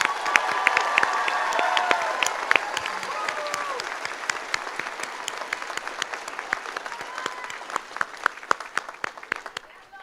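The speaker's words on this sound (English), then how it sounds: "Let's give them a round of applause." Graduation ceremony audience at a college commencement applauding, sustained dense clapping with scattered cheers and shouts, gradually thinning toward the end.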